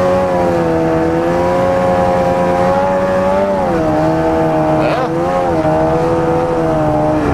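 An Arctic Cat ZR 800 snowmobile engine runs loud and close with a steady droning tone that dips and then rises again as the revs change, continuous throughout.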